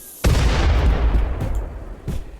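A sudden deep boom of turret gunfire and explosions in the RimWorld video game, with a long rumbling decay and a few fainter thuds following.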